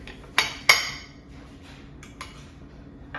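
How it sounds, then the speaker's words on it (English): Two sharp clinks of a utensil against a plate, close and fairly loud, as a fork cuts through a crispy-shelled taco cake, followed by fainter taps and scrapes. "let's go ahead and cut into that and get a bite for ourselves here"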